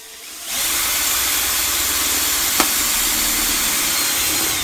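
A power drill boring a hole in a vacuum chamber starts up and runs at a loud steady whine, with a brief sharp crack midway and no talking.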